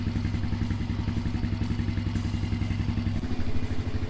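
A Polaris Outlaw 90 ATV engine runs steadily at idle after an oil change, a close, even low putter with a slight shift in rhythm near the end.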